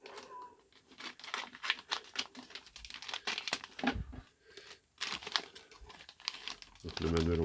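Crinkling and tearing of plastic wrap around a colour printed manual for an XRAY X1 2020 RC car kit, close and busy in bursts, ending with heavier rustling.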